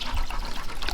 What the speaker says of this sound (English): I'm gonna get some other water in here,